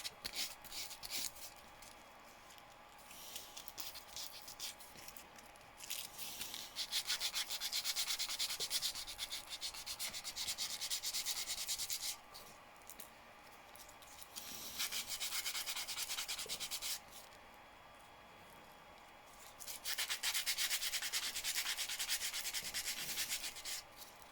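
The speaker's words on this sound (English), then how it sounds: "a little bit of sand off with the sandpaper on the sides" Sandpaper rubbed by hand along the sides of a 3D printed plastic part, heard as steady close scratchy strokes in several long bursts separated by brief pauses.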